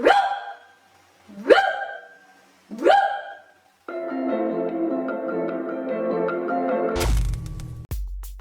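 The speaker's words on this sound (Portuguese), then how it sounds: "O nosso lobo-guará, que é o lobo mais lindo de todos, ele não uiva, ele late como se fosse um cão doméstico" Maned wolf giving three separate sharp, dog-like barks with pauses between, loud and close, followed by a sustained layered tonal sound and a brief crack at the end.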